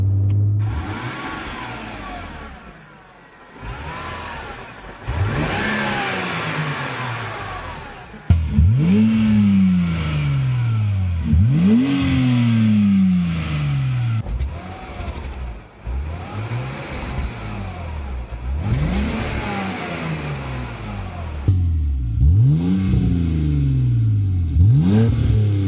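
A high-mileage BMW 328 engine with a chopped muffler revs and accelerates repeatedly, each pull rising in pitch before shifting down, loud and close with brief lulls between runs.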